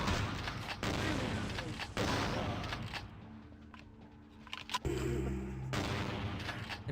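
Gunfire in the game Vampire the Masquerade Bloodlines: bursts of rapid in-game shots and blasts in loud, dense volleys, a brief lull, then more heavy firing, with a voice talking over it.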